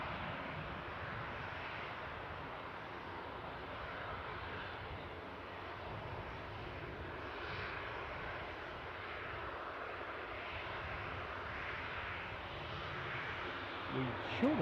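An Eastern Airways plane departs Newcastle Airport for Aberdeen, a faint, steady distant engine drone with a soft voice murmuring beneath it.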